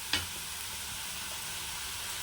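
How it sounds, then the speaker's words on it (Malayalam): Dried red chillies crackle and sizzle in hot oil for a Kerala-style curry, a steady close hiss opening with a brief sharp pop, with no voices. "ഇനി നമുക്ക് കുറച്ച് ഉണക്കമുളക് വറക്കാം"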